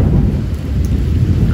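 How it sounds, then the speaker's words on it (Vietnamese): Heavy rain pours steadily with a deep rumble of thunder underneath, a dense, loud, continuous wash of sound with no voices. "Bây giờ là trời đã rất là mưa."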